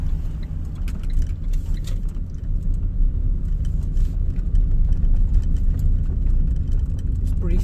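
A car driving along a road near a chateau, its engine a steady low rumble with road noise close by and continuous from start to end, with someone talking over it.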